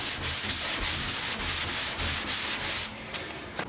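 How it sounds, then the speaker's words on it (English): A sanding block scrapes back and forth across a car door in about eight brisk, even strokes, loud and close, before stopping and leaving a quiet room. "we just finished block sanding this door"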